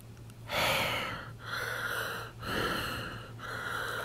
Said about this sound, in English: You hear yourself breathing.